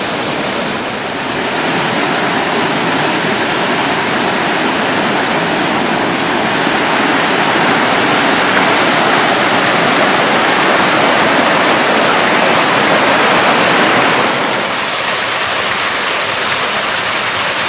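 A tributary stream of the Jordan in the Tel Dan nature reserve rushes loudly and steadily, a dense continuous broadband roar of flowing water heard up close with no voices.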